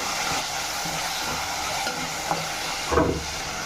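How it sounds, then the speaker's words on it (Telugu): A spoon stirs tomato paste into frying ginger garlic paste for a bitter gourd and tomato curry, with a soft steady sizzle and a few scraping strokes against the pan, no voices. "అల్లం వెల్లుల్లి పేస్ట్ మగ్గిన తర్వాత కొద్దిగా టమాటా పేస్ట్ కూడా వేసుకుని ఒకసారి కలిపేసుకుందాం."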